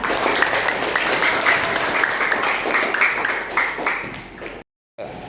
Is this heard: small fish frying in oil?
no